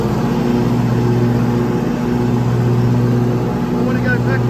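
A ride-on lawn mower's engine runs steadily with its cutting blades engaged, giving a continuous close, loud drone with a strong low hum throughout.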